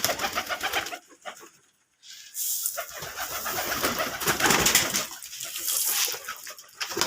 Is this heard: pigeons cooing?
yes